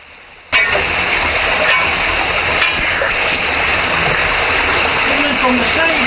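Water gushing steadily out through an underground passage while digging out a flooded tunnel, a loud continuous rushing and splashing that starts abruptly and holds at a constant level close by.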